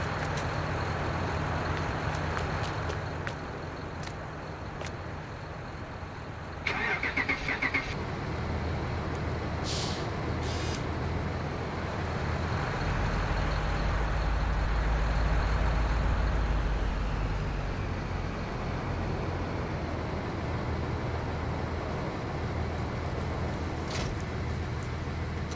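A pickup truck engine in Farming Simulator 19 runs at a steady drone with a continuous low rumble, with brief hissing bursts over it and no talk.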